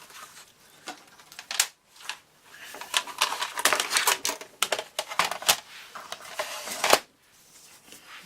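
Paper being scored for a mini album cover, a run of close, dry scraping and tapping strokes with short pauses, scratchy and rhythmic like a tool dragged along a scoring board.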